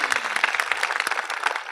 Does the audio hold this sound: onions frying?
no